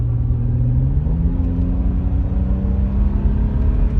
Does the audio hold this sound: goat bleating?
no